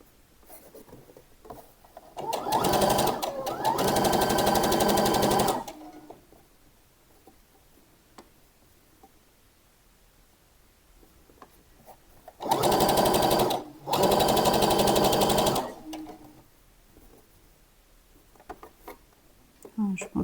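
Two bursts of a sewing machine stitching a garment seam at 1 cm, each a few seconds of rapid close whirring and clatter, separated by quiet.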